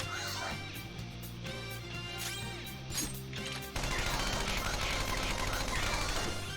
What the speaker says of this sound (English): Let's just open fire.